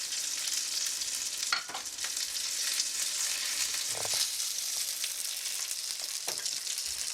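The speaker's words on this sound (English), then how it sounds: "I want to return the first batch to the skillet." Pork sizzles and fries in a skillet, a steady crackling hiss broken by a few louder scrapes and stirs, close and moderately quiet, with no talking.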